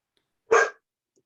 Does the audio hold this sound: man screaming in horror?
no